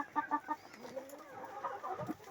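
Free-ranging chickens and a rooster foraging on green grass after days of rain give a few soft clucks and short calls at close range, scattered and uneven, with no talk.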